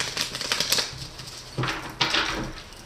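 A deck of tarot cards being shuffled during a reading: quick, close riffling and flicking bursts, a brief rapid run of cards followed by a pause and then two more crisp shuffle bursts.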